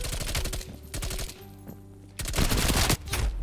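Rapid bursts of M16 rifle fire in the video game Call of Duty: Black Ops Cold War crack loudly and close, a brief lull in the middle before another sustained, hammering burst.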